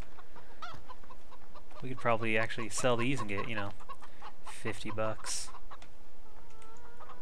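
Chickens cluck in the video game Farming Simulator 15, soft scattered clucks and a few louder fowl calls in a farmyard, with someone talking over them at moments.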